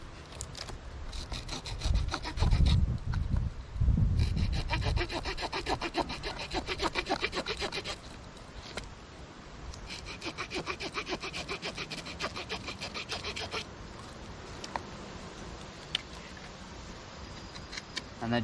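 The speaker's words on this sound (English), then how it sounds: "And they just make shaping it so much easier with the saw, because the saws are that sharp." Rhythmic rasping strokes of a sharp saw cutting and shaping wood for a simple spring snare, steady back-and-forth sawing close by with brief pauses.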